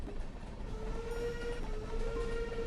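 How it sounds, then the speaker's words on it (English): A train passes in the Stardew Valley game as a faint, steady rumble with soft rolling clatter and a thin sustained tone drifting through, heard alone at low level. "The train noises!"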